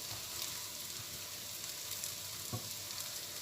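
Quiet stirring of rice pilaf in a pot, soft scraping taps over a faint steady sizzle and hiss.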